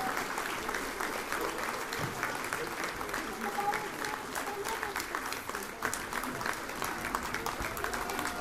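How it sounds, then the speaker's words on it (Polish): Audience applause at a folk music education concert finale in Poland: steady, dense clapping from a large crowd throughout, with faint voices mixed underneath. "Wielkie brawa poproszę."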